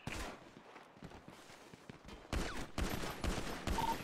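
Gunfire in a GTA V NoPixel roleplay shootout, a team deathmatch fight: a flurry of sharp shots, some quieter at first and then louder, near bursts of fire close together, with no talk.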